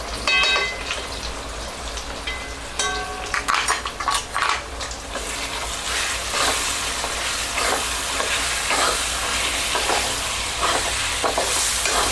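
Ground lentil paste goes into hot tempering with curry leaves and turmeric: a few metal clinks and utensil clatter first, then a loud, continuous sizzle swells and crackles on close by.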